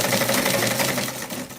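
A sewing machine stitches a white garment, its needle motor whirring in a fast, even, close chatter that softens slightly toward the end.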